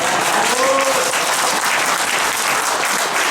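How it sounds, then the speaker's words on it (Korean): An audience applauds at a public forum for a first-year Masan High School student being introduced, a steady, dense wash of clapping with a brief voice at the start. "박수 한번 주십시오"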